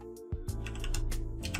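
Quick run of computer keyboard keystrokes as a file name is typed while saving a render in After Effects, close and fairly soft, with a low steady hum underneath and no talking.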